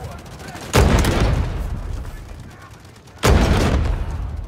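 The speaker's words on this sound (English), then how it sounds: "You just tanked a missile to the face." Two heavy missile blasts go off in the video game Delta Force: Hawk Ops, each a sudden loud boom fading into a rumbling tail, the second about two and a half seconds after the first, close and dominant.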